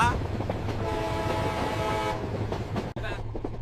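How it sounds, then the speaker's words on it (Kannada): A diesel train rumbles past close by, its horn blaring steadily for a couple of seconds, with clattering wheels continuing afterward. "ನೋಡಿ ಆ ಕಡೆ ನಮ್ಮ ಡೀಸೆಲ್ ಟ್ರೈನ್ ಹೋಯ್ತು ಹಾರ್ನ್ ಕೇಳಿದ್ರ"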